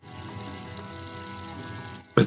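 Faucet water running in the Meteor Mess 3D game, a soft steady pouring stream with a faint tonal hum, ending in a short loud clunk near the end; no one speaks.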